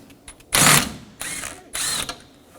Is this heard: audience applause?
no